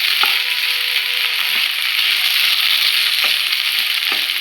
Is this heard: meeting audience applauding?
no